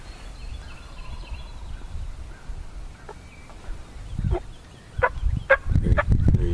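A wild turkey gobbles on a spring morning hunt, several rattling gobbles building in loudness toward the end against a quiet outdoor background with faint birdsong.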